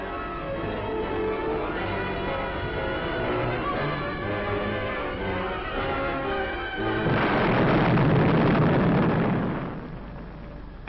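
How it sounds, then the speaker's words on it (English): WWII newsreel battle sound of artillery shell fire and bombing over a shelled city: continuous rumbling booms build into a heavier, denser barrage of blasts near the end, then fade. The old recording sounds muffled. "Into this city, battered by bombing and shell fire, the tanks went in"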